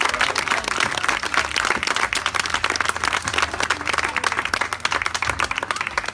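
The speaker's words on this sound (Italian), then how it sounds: "grande l'applauso, forte" Audience at a hotel dance show applauding loudly and continuously, dense clapping from a crowd with a few voices mixed in.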